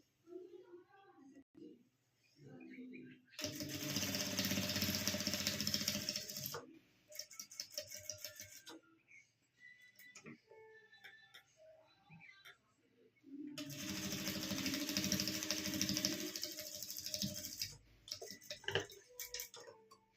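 Sewing machine stitching a net fabric puff sleeve, running in two long steady buzzing bursts, with quieter handling sounds and a speaking voice in the gaps between.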